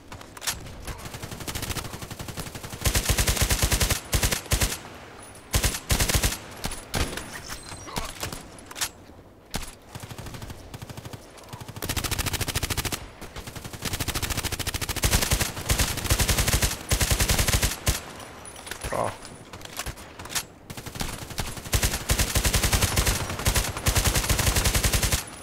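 Rapid automatic gunfire from a weapon in the online shooter Contract Wars, loud, dense bursts nearly continuous across the clip with brief gaps, over game ambience.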